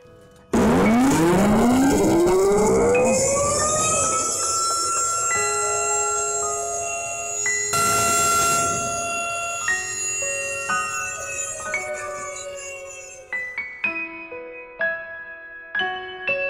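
A loud siren at a groundbreaking ceremony swoops upward and holds a steady wail for several seconds, then winds down while scattered bell-like tones ring out.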